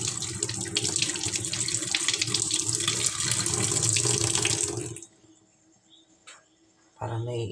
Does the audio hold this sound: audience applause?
no